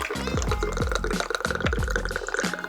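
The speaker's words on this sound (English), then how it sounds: "Next is your 2 ounces of bourbon." Bourbon pours into a mint julep glass over ice, a close gurgling stream with bubbly glugs and drips, heard alone.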